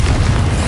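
A Confringo fire spell from Hogwarts Legacy detonates as a loud, close explosion, giving a dense, sustained boom that fills the whole short moment.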